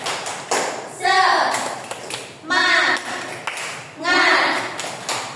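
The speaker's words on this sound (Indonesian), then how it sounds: "Kita tepuk semangat dulu bareng-bareng" A class performs the tepuk semangat clapping chant in a classroom, sharp rhythmic claps in short bursts alternating with children chanting together, loud and close.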